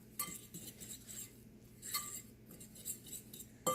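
Dry muffin ingredients for oatmeal muffins, salt among them, being stirred in a bowl, giving repeated light clinks and scrapes of a utensil against the bowl at a quiet, steady pace.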